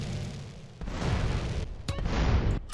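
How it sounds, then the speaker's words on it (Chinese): A rocket launcher explosion in Grand Theft Auto: San Andreas with random and chaos mods at a military base gives heavy booming blasts with rumbling low roar, two sharper bursts near the middle and end, loud and close, no talk. "火箭炮开射"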